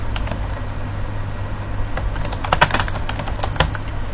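Steady keystrokes on a computer keyboard while text is entered in InPage 3 Professional, a near, continuous patter of clicks with a few louder taps over a low constant hum.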